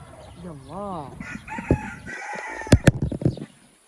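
A rooster crows loudly with a rising, wavering call, followed by a few sharp clucks and squawks nearby before fading to quiet.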